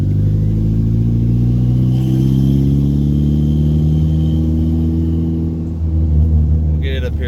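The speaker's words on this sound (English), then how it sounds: "the thing's idling a lot better" Turbocharged Mazda 3 engine, recently fixed for a bad MAF sensor, idling with a steady low rumble and a smooth, even hum, close and continuous throughout.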